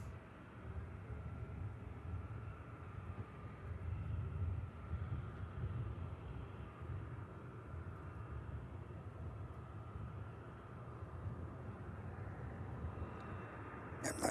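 Air France airliner from Paris Charles de Gaulle landing, a distant, low, continuous engine rumble that holds steady throughout, faint and without speech.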